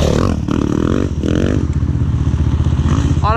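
A dirt bike engine on a charity trail ride, loud and close, with the revs rising and falling across a few seconds and some clattering over rough ground.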